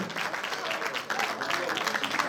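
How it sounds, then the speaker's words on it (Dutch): An audience at a carnival performance applauds warmly, steady dense clapping that fills the whole stretch, close and fairly loud, with faint voices underneath. "Geef ze nog een warm applaus aan Andy de Rooij"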